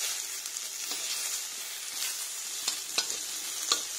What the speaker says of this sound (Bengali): যথা সম্ভব কম তেল দিয়ে আমি একটু উল্টো পাল্টে ভেজে নিচ্ছি।